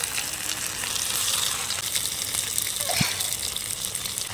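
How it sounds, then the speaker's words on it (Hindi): Pieces of arbi leaf patra deep frying in oil in a kadhai, giving a steady, close crackling sizzle with a faint clink partway through. "कढ़ाई में मैंने जितने पीस एक बार डाले थे सारे अच्छे से डीप फ्राई हो चुके हैं"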